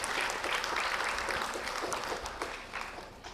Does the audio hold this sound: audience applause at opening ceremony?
yes